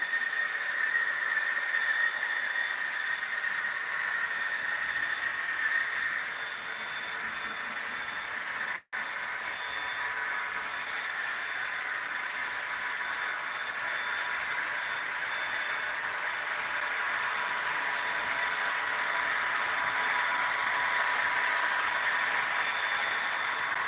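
A continuous mechanical whir and hiss of a model N&W J-Class train engine runs steadily, broken once by a brief dropout before resuming.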